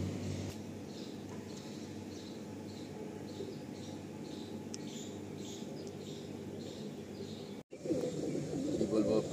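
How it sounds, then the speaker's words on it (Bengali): Tiger-line pigeons at a pigeon sale, soft cooing repeating steadily at close range beneath a noisy background, with a rustle and a louder burst near the end. "কিন্তু খুব সুন্দর পায়রা।"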